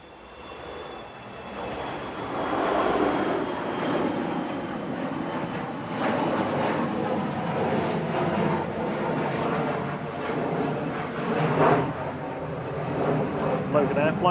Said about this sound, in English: Flight 28, heading back to Aberdeen there, GSA JI ERJ 145